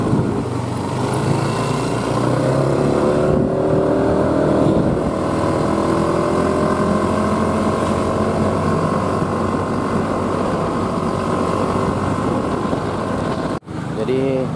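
A motorcycle rides at night along a road near Ciwalengke, its engine droning steadily with rushing wind noise, a low continuous hum that cuts off briefly near the end.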